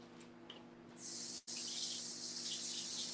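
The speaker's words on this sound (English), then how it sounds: "Let me go ahead and wash these off." Kitchen tap water gushes steadily into a sink while bananas and apples are rinsed, starting after a moment of low hum and briefly cutting out before resuming as a close, even hiss.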